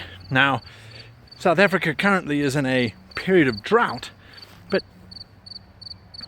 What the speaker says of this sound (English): That's a little cricket in there somewhere, just going mad.